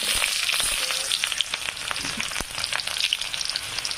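Onion frying in oil with mustard seeds and peanuts gives a steady, close sizzle with scattered sharp pops and crackles throughout.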